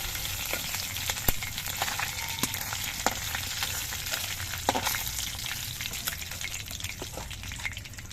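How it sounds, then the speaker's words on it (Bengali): Pabda fish frying in hot oil, an even, unbroken crackling sizzle close by with scattered sharp pops, steady in loudness across the whole stretch and free of talk. "বাকি মাছগুলো ভেজে নিচ্ছি আমি"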